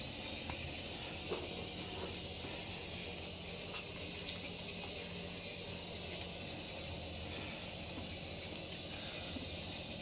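Milk boiling in a pot with cardamom and bay leaf for palm-fruit pitha, a constant low bubbling hiss holding steady for the whole stretch, faint and close, with no talk.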